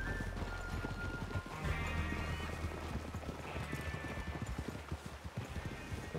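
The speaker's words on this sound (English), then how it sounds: "Get a hold of that horse, Morgan." Horse hooves clip-clop in a rhythmic trot across the ground in Red Dead Redemption 2, close and steady, with occasional snorting and tack noise under faint game ambience.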